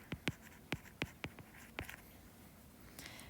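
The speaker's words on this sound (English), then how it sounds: "Let's write this here too." Pen strokes on paper during a math lesson, a quick run of sharp scratchy taps followed by a pause and a few fainter strokes, close and alone with no talk.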